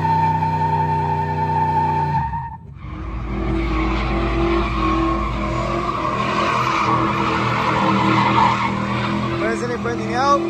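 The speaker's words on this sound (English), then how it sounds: "Isn't it burning out?" A pickup truck does a burnout at a truck meet, its engine roaring steadily while the tires squeal and hiss continuously, loud and close, with crowd noise around it.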